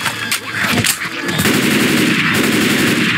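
Video game gunfire in Left 4 Dead 2 in a swamp village setting: loud, rapid automatic shots blur into a dense, continuous volley, close and dominant, with no talk over them.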